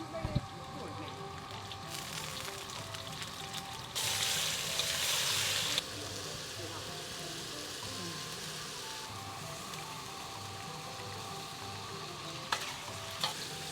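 Flat rice noodles with chicken sizzle steadily in a pan, frying and being stirred for a long stretch, with a louder burst of hissing partway through and a few sharp clinks.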